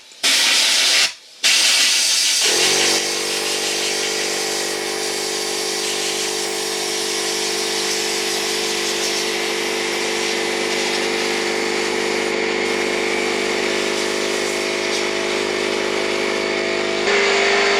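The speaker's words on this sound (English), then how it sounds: "I'm going to go ahead and start off with an air compressor, and I'm going to try and blow this off here" Air compressor nozzle blasting air over the grate of a BLACK+DECKER 10,000 BTU portable air conditioner: a loud, continuous rushing hiss that starts with a short burst and a brief cut, then holds steady close to the mic.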